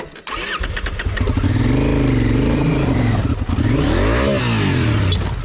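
A Honda Africa Twin CRF1000 adventure motorcycle held at full throttle on slippery mountain ground, its engine roaring loud and close while the revs surge and drop as the traction control cuts in and out.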